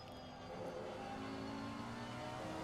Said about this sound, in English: I actually like the sound of the Lambo too.